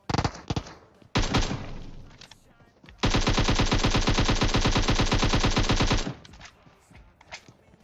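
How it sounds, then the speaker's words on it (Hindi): Gunfire in the video game PUBG: a few separate shots, then a long sustained burst of rapid automatic fire lasting about three seconds before trailing off into scattered sounds. "पीक करके दोबारा गोली चलाते हैं।"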